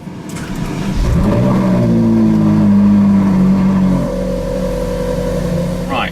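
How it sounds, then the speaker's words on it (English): A Ferrari 458 V8 cold-starts inside the car: a sharp starter whine and catch, then a loud, sustained high-idle rev that settles to a steady drone. "Cold start."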